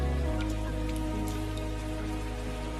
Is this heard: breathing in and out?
no